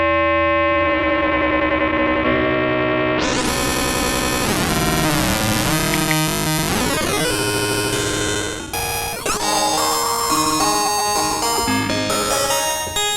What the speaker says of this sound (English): start to get some of those more typical FM sounds we might be used to